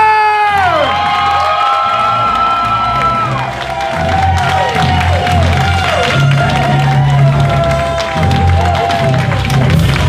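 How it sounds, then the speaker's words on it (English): Wedding guests cheer, whoop and applaud the newly married couple at their reception, a loud, lively crowd roar with shouts and clapping continuing the whole time over music. "please give a very warm, cheerful, passionate, and loud round of applause for your newly wedded couple, Mr. and Mrs. Shaun and Alice Palmer!"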